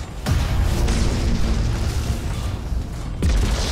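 A battleship blows apart in the space strategy game Battlefleet Gothic: Armada II, producing a loud, sustained low boom that rumbles on, with a second deep impact near the end.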